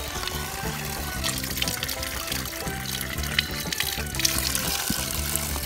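Spring water flows in a steady, bright gurgling stream close by, running continuously with a rushing, splashing texture and a low hum underneath.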